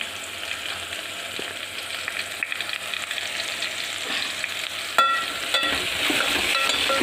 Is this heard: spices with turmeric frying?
yes